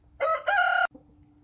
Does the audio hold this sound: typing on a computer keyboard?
no